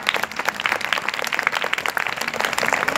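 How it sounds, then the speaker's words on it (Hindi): Audience at a school event in Nandgaon, India, claps in sustained, dense applause that stays steady and fairly close throughout, with no speech over it. "तालियां बजा रहे।"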